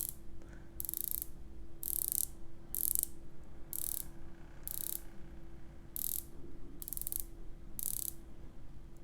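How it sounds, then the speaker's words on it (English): Ceramic bezel of an Oris Aquis Date dive watch being turned through its 120-click rotation, giving repeated bursts of crisp, close ratcheting clicks in an even stop-start rhythm over a steady low hum. "It has a very nice ceramic bezel with 120 clicks. Let's hear the bezel movement."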